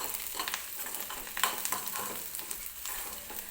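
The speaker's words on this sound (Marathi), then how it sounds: "कांदासुद्धा भाजत आलेला आहे. मी आता टाकलेली आहे सुकी मिरची." Chopped onion and dried red chillies sizzling and frying in a pan, with steady crackle and occasional stirring scrapes, close and alone without voices.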